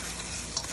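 A spiced mixture seasoned with turmeric, chili powder and salt fries in a pan, giving a brief, dense, steady sizzle close by with no talk.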